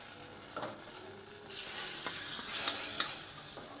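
Mashed tomato hits a hot pan and sizzles, a bright crackling hiss that swells and fades, with a few soft clicks of stirring, close and without talk.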